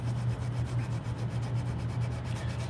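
Guitar wood being hand-sanded with 120 grit sandpaper: continuous close rhythmic scratchy rubbing strokes, steady and fairly loud, with no talking.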